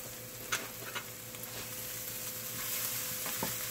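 Garlic sautéing in a pan over lowered heat for chicken piccata, a steady close sizzle with occasional light ticks and clicks from stirring, constant throughout.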